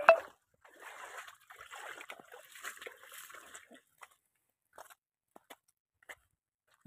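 Rainwater runs and splashes through a flooded field after heavy rain: a sharp splash, then a stretch of soft trickling and sloshing, then scattered faint drips and plops.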